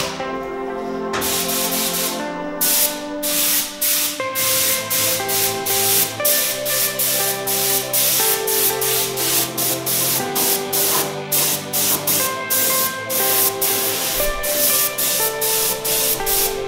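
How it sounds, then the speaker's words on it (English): Black spray paint hisses from a can or gun onto a bike frame in repeated short bursts, heard over steady background music. "I decided to spray from dark to light colors. So let's start with the deep black as the filling color for the graphics."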